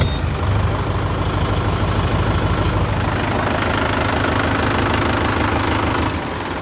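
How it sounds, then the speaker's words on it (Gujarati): A 47 hp Mahindra 575 Yuvo Tech+ tractor with about 1,680 hours of use runs close by, its diesel engine giving a loud, steady knocking chug that holds an even pace throughout, with no talk over it. "જોજો મિત્રો અવાજ ટ્રેક્ટરનો"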